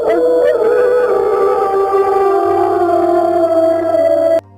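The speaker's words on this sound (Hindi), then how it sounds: "इतनी भयानक गुर्राहट पूरे जंगल में गूंज उठी" A terrifying animal cry echoing through a forest in a Hindi cartoon story, a loud, sustained wavering howl that slowly falls in pitch and then cuts off abruptly.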